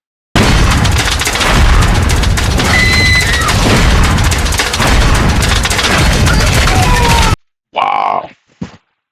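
Gunfire and booming blasts from the Dirty Harry video game fill a loud, dense stretch of about seven seconds, then cut out, followed by a couple of short voiced grunts or groans.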